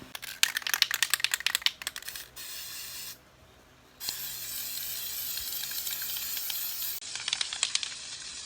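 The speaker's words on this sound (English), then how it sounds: "So I'll get to spraying that gasket" Gasket sealant sprayed onto an engine block during a 4ZE1 top-end rebuild, heard as a run of short hissing bursts followed by a longer steady spray with a brief pause in between, close and fairly loud.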